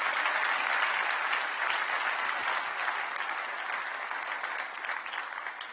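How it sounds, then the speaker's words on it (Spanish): Sustained applause from a crowd, dense steady clapping that fills the whole stretch, slightly easing toward the end. "Den un aplauso al Rey, mis hermanos"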